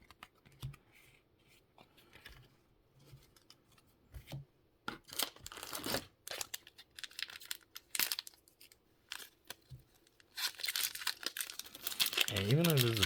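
A Riftbound Origins trading card booster pack is torn open along its ripcord, with crinkling foil wrapper rips and crumpling that build into a loud, sustained tearing burst near the end, with talk earlier on.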